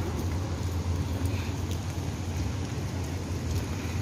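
Steady rain falls around the Helix Bridge in Singapore, a continuous dense hiss with low rumbling wash, fairly loud and even throughout with no voices.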